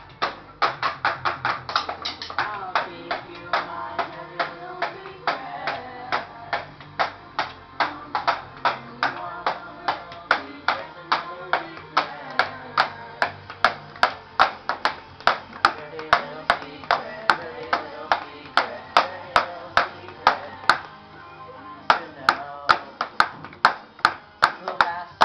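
A small, lively audience claps rhythmically in steady repeated bursts with scattered cheers, sustained for over twenty seconds, with people talking over it now and then.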